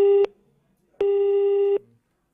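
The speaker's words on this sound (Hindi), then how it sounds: "तभी उन्होंने बिना कोई बात किए फोन काट दिया।" Telephone tone after a call is hung up: two steady beeps, the first ending abruptly and the second lasting nearly a second, separated by a short silence, loud and close.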